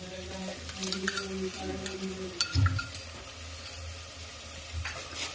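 Coriander paste goes into a hot pan and is stirred, a soft frying sizzle with scraping spatula strokes and a low thump of the paste landing, close and fairly quiet with no talk.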